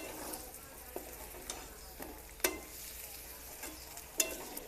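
Vegetable pieces coated in onion paste are stirred in a pan for a mock fish curry, giving soft scraping strokes over a quiet sizzle with a few sharp ladle taps against the vessel.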